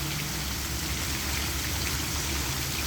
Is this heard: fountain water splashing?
yes